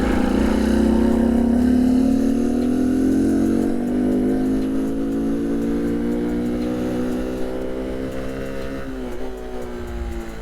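A Honda C70 Passport motorcycle engine revs steadily upward in pitch, then drops back briefly near the end, loud and close with no talk.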